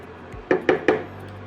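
A metal lid is set over a cooking pot of potato curd, giving three quick clinking taps in close succession, moderately loud and close, with a faint kitchen hum underneath.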